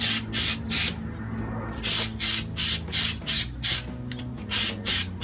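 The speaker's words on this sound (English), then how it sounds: "we're spraying the glitter spray right over the primer" Glitter spray paint from an aerosol can sprayed in repeated short bursts over a primer coat, roughly eight or nine quick hissing puffs separated by brief pauses, close and fairly loud.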